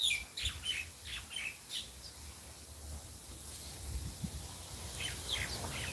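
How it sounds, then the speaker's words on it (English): Small birds chirp and tweet outdoors among trees in nature, with several short high calls scattered over a low, steady background hum. "start to listen to the birds"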